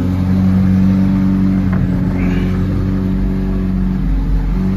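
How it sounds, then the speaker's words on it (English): A McLaren Senna engine is revved slowly, a loud steady mechanical drone with strong low harmonics that swells gently and holds for several seconds with no talk. "give you a nice little slow rev, rev."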